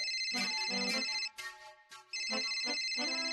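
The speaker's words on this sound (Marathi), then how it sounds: "फोन वाजतोय." A phone ringtone plays a bright melodic pattern in repeated phrases, fairly loud, with a short break in the middle before it continues.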